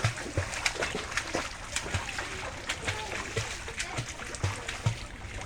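Water splashes repeatedly as people take swimming lessons in a river, rhythmic slaps and splatters at moderate distance with faint voices in the background.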